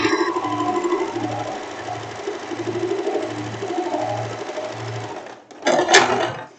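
A sewing machine stitches fabric for a wrap dress in a steady rhythmic pulse of about seven even bursts, fairly close, then stops before a short clatter of handling near the end; speech is faint or absent.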